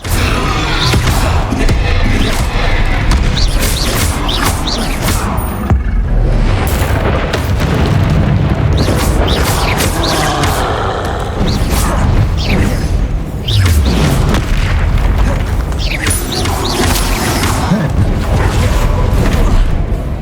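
Confringo spell explosions in the Hogwarts Legacy video game make loud, dense booms and blasts that come one after another over the full length, with crackling debris and mechanical clatter between them.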